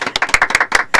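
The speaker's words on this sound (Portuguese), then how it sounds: "Vamos fazer uma salva de palmas" A live audience at a talk on mental health in the Bahia military police claps together, a dense burst of many hands with uneven sharp peaks close by, no voices over it.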